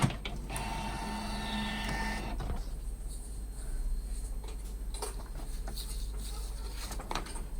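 Canon G-series inkjet printer feeding and printing a blank sheet, a whirring carriage motor for about two seconds followed by clicking and rattling paper-feed mechanics, up close in a quiet room with no talking.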